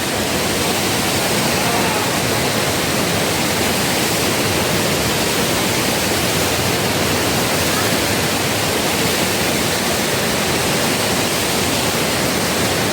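A mountain waterfall at Kheerganga in the Himalayas of Himachal Pradesh, roaring as a steady, dense broadband rush of falling water that stays loud and unchanging throughout, with no voices.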